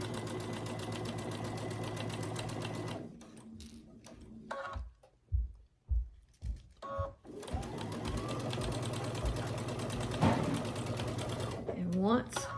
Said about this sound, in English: Pin it, and then stitch down that line.